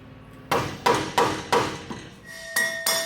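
Rubber mallet striking a rear shock absorber on a Toyota FJ Cruiser, with about eight sharp, evenly spaced blows close by and no talking.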